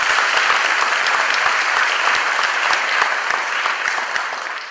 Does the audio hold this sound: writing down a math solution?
no